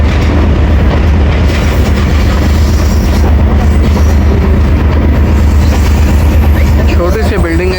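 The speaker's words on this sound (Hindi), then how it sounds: "रत्तू काला रेलवे स्टेशन पहुंच गई है जी हमारे 2 डाउन शटल ट्रेन" The 2 Down Shuttle train pulls into Rattu Kala railway station on the Lala Musa to Sargodha line, a loud, steady rumble of railcars and wheels with faint squeals near the end.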